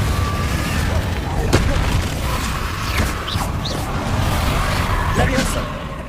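Confringo fire spell explosions from the Hogwarts Legacy video game, several booming blasts and crackling bursts spread through a dense, continuous game soundscape with steady low rumble and effects throughout.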